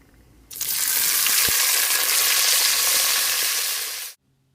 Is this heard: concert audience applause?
no